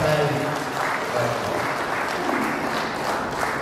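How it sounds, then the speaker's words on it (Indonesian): Audience applause at an inspirational talk show for the Indonesian teachers' association IGI, a dense steady wash of clapping filling the room at an even level throughout, with faint voices mixed in underneath. "Jangan ragu, boleh tepuk tangan."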